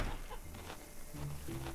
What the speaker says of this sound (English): So yeah, got some hens now.